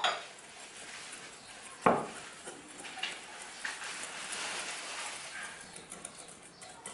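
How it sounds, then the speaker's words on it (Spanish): Condensed milk being beaten in a bowl, with sharp clinks of utensil against the bowl at the start and again near two seconds, followed by a fainter, steady scraping whisk. "vamos a ir añadiendo la leche condensada, y esto lo vamos a batir"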